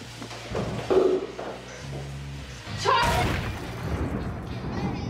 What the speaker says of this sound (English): the explosion was powerful enough to break the window